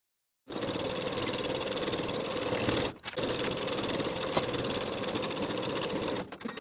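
A sewing machine stitches the side seam and inseam of a knit jumpsuit, running in two steady bursts of fast, even mechanical chatter separated by a brief pause, close and loud with no talk.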